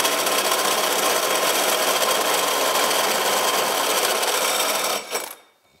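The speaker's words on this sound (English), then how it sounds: "The drill more or less bottoms out." A power drill bores into a front suspension part of a modified Yamaha Enticer snowmobile, a loud, steady high-speed whine and grinding that runs for about five seconds, then spins down and stops.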